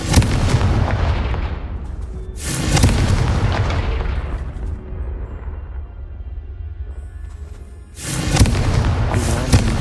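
Blasting spell explosions in the video game Hogwarts Legacy, three loud booming bursts with long rumbling decays, heard close and alone without speech.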